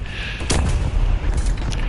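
Heavy tank gunfire from War Thunder strikes the player's cannon: a loud, booming impact near the half-second mark, followed by rumbling combat noise and a few fainter cracks, all without speech.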